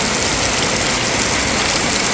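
Heavy storm rain in Laos pours down as a dense, even roar of drops on surfaces, loud and close with no pauses or voices.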